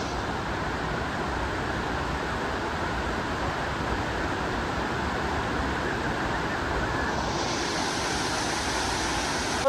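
Mangal waterfall in a remote valley village pours down in a steady, dense roar of rushing water, loud and continuous throughout with no voices over it.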